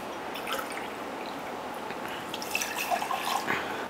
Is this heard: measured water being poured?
yes